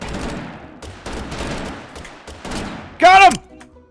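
Gunfire in the cartoonish battle royale game Totally Accurate Battlegrounds, a short loud burst of rapid shots near the end following a few seconds of someone talking.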